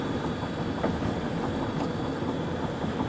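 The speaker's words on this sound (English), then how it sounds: "There's a train running alongside of us." A train rumbles past close by alongside a moving car near Broken Bow, a steady heavy roar with faint rhythmic clatter of wheels on rails throughout.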